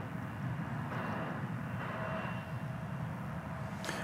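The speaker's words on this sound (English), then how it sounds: "There was American Flight 1994 coming in from Los Angeles" An American Airlines Airbus A321 arriving at DFW Airport, inbound from Los Angeles, produces a faint, steady engine drone heard from a distance, continuous without speech.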